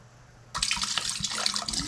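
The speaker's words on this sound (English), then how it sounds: "Now, let's pour some little water in this thing." Cold water is poured into an antique device, a steady splashing, trickling pour that starts abruptly and runs on close and fairly loud, without talk.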